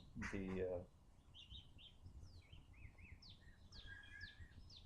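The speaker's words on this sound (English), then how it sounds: "Birds are going crazy." Outdoor birds chirp and twitter in quick, scattered bursts at moderate distance, and a voice is heard briefly at the start before the birds carry on alone.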